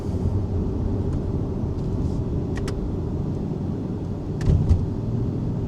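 A car with an 8-speed gearbox accelerates hard, its engine drone loud and continuous from inside the cabin, with a brief surge near the end and no talking.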